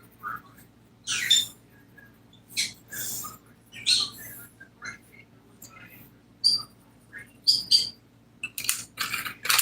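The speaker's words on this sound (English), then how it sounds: "My birds are just chirping their little tails off over there." Pet birds kept indoors chirp in short, bright bursts scattered across a quiet room, some calls sharp and high, others softer twitters, with brief pauses between them.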